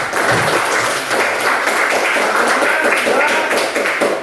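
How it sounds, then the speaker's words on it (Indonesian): A class of students claps together in a steady burst of applause, dense and fairly loud, with some voices mixed in. "Mari kita bersama-sama apresiasi ya pada teman-teman semua. Tepuk tangan ya."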